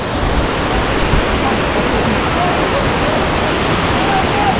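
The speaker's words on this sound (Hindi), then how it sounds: "और अभी ये वाला एक वाटरफॉल है।" Loud, unbroken roar of a waterfall along the Andharban jungle trek in the Kundalika Valley, heard up close as dense rushing water that fills the whole scene.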